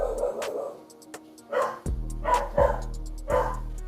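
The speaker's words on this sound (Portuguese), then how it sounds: "Cachorro." A dog barks in a run of four or five moderately loud, somewhat distant woofs at an uneven pace, with a low hum and faint ticking in the background.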